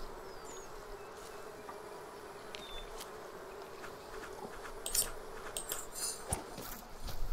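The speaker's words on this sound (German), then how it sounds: "Hier ist noch ein Wespennest." Wasps swarm around a nest in a medieval building-site video game, making a faint, continuous buzz. A few soft clicks and light steps come through more clearly toward the end.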